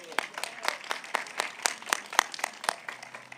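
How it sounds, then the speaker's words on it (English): A small scattering of hand claps at an outdoor school historical marker unveiling, a few distinct, irregular claps rather than a full ovation, fairly close and light. "I want to give her another round of applause"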